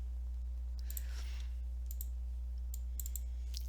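Computer mouse clicks while selecting a folder, several faint sharp clicks, some in quick pairs, over a steady low electrical hum.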